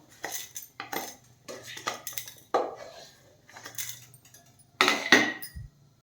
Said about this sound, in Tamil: ஒரு தட்டை தனியாக எடுத்து வச்சுருவோம்